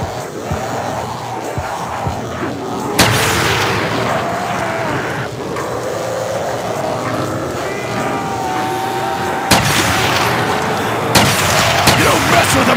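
Gunshots from the Call of Duty zombies map Der Riese, a few sharp loud cracks spread out over a rumbling game soundscape of moans and effects.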